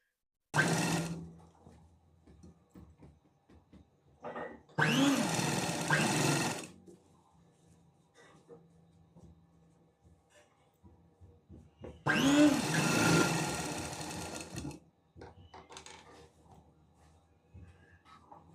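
Sewing machine stitching the side seam of a nighty alteration, running in three loud, steady whirring bursts of about two to three seconds each, separated by quiet pauses.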